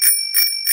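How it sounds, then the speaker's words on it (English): Cartoon bicycle bell rung three times in quick succession, bright metallic dings that are close, loud and clear with no talk over them. "Ringing your bell lets others know you are there."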